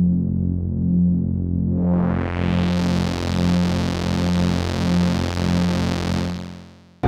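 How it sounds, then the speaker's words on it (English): Dreadbox Erebus v3 analog synthesizer playing a ring-modulated tone with pulse width modulation, a steady throbbing drone that brightens as it sweeps open, pulsing rhythmically before cutting off. "But you can also pulse width modulate the ring modulation"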